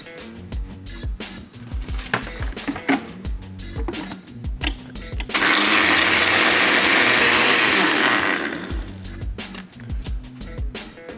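A blender whirs loudly for a few seconds, crushing ice into a frozen gin drink, framed by clinks, knocks and handling noises before and after the burst.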